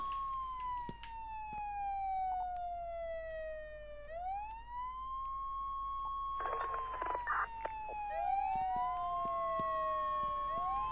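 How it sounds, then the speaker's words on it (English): Several ambulance sirens wail and overlap in a jammed downtown street in the Flashing Lights game. The rising and falling tones sweep continuously and loudly, with brief bursts of other noise in the middle and no speech. "A bunch of ambulances jammed up in here."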